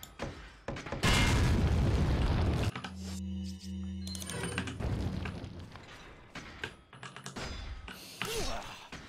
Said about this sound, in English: Last, uh, last try with the last grenade, unfortunately.